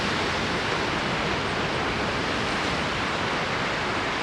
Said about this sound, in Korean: 어떻게 저렇게 파도가 높게 치지?